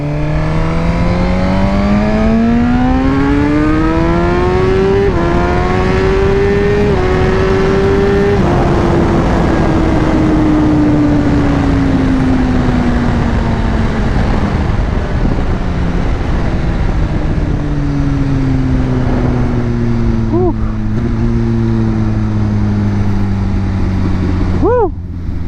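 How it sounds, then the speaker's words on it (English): A motorcycle under hard acceleration, engine loud and close as its pitch climbs, drops at quick shifts, then sweeps up again before easing into a long falling tone, with wind roar throughout. "This bike is crazy fast, man."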